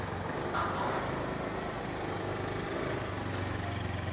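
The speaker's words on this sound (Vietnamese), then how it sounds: "Động cơ rất là quạo" A Yamaha VMAX 1700cc motorcycle, 60th anniversary edition, runs with a steady, loud engine drone that holds an even rough rumble throughout, close by and with no speech.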